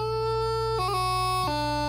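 Bagpipe practice chanter playing a short measure that begins on high A: steady, reedy sustained notes with a few quick pitch shifts and grace-note flicks. It plays alone and close, with no talking.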